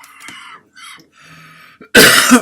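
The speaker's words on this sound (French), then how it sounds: "Pardon, toujours cette toux." Quiet, halting talk gives way to a sudden loud cough near the end, harsh and close.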